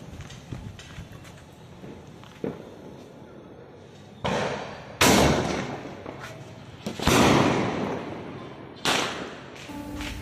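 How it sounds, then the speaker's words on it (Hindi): A Coke Merry Go Round sky shot firecracker bursts overhead in a string of sharp, loud cracks and crackling bursts spread over several seconds, with quieter pops and outdoor background noise between them. "सो गाइस ये स्काई शॉट फटा और चक्री हल्की सी घूमी"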